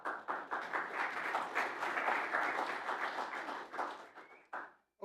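Audience applause in a church gathering, a dense burst of many hands clapping that swells, holds and then fades out abruptly.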